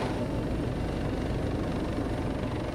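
Air ambulance helicopter at a boat emergency, a steady, loud, low rotor and engine drone that holds evenly throughout with no voices.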